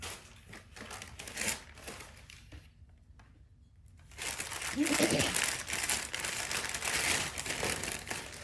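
Paper wrapping crinkles and rustles close by as a thrift store purchase is unwrapped, with bursts of crumpling, a short quiet pause, then louder sustained tearing and crackling.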